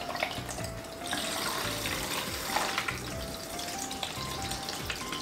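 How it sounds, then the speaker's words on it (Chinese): Makeup brushes swished and rinsed in a basin of clean water, giving a steady close watery sloshing and splashing with faint tapping, continuous throughout with no talking. "我们现在把所有的刷具都放到清水里面再洗一遍"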